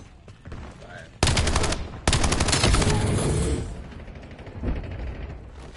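Rapid automatic gunfire in a video game team deathmatch, loud sustained bursts of machine-gun fire lasting several seconds after a few lighter shots, then fading to scattered shots, with voices under the shooting.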